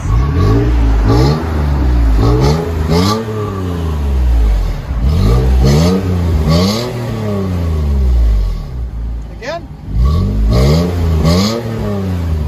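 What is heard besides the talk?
Toyota Tacoma 4.0L V6 aftermarket exhaust revving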